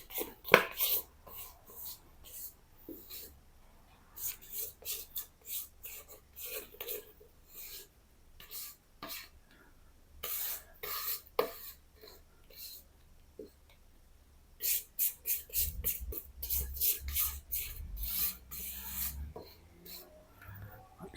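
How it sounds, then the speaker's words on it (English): Almond flour macaron batter being folded with a spatula in a bowl, soft scraping and tapping strokes in irregular bursts, fairly close, with a denser run of strokes near the end. "You just want to fold it until it's coming off the spatula."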